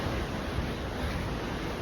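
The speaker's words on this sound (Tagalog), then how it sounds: "ang daming ang lakas ng alon papunta dito sa may gilid" Strong sea waves rushing toward the beach edge, a dense continuous roar of surf, loud and close with windy noise throughout.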